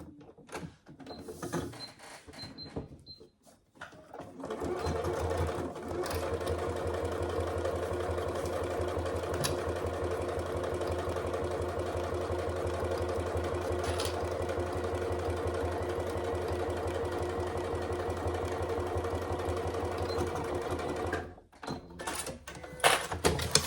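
Sewing machine stitching the long top and bottom edges of a fabric wash bag at a quarter-inch seam, a brief start-stop at first, then one long continuous close whirring run, stopping near the end.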